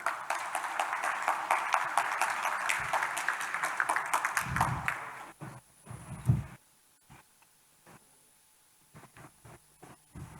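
A burst of clapping from a gathered audience for about five seconds, then it thins into scattered claps and quiet shuffling.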